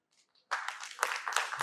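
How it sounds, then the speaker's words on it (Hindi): Audience clapping at a motivational medical lecture session, a dense burst of applause that starts abruptly after a brief quiet moment and continues steadily with scattered louder claps. "ताली ढंग से बजाओ यार"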